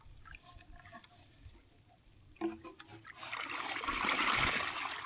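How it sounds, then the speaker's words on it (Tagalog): Strong flow of irrigation water in a rice field, a rushing, splashing gush that starts faint and builds to a loud, close surge, with some handling noises early on. "Ang lakas ng tubig yun."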